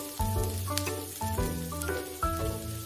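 A tiny mini paratha fries with a steady oily sizzle in a miniature pan, with a few louder crackling bursts and soft clinks as small tongs turn it over, close and unaccompanied by speech.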